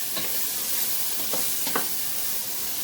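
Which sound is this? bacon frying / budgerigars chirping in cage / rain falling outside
bacon frying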